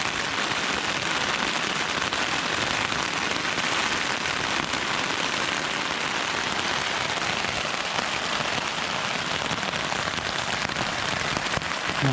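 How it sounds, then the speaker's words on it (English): Heavy rain pours onto a tent pitched at a beach, a dense, continuous patter and hiss of drops drumming steadily on the fabric at close range. "It's actually chucking it down out there."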